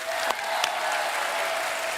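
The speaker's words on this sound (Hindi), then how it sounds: "सो जोरदार तालियां बनती हैं।" Dense applause from a TV comedy show's studio audience, steady and loud throughout, with a couple of sharper claps standing out near the start.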